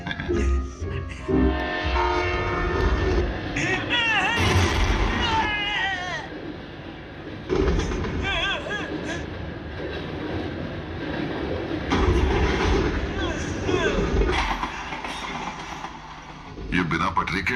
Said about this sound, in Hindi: ये बिना पटरी के ट्रेन कहां से आ गई?